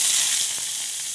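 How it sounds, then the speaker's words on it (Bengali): Sliced onions fry in hot oil in a pan while cooking aloo dum, giving a steady, loud, close sizzling hiss throughout with no voices. "এই পেঁয়াজটা এর মধ্যে ভেজে দিয়ে দেবো"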